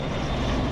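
Steady broadband rotor and engine roar of a Coast Guard rescue helicopter, loud and continuous through a brief moment with no talk.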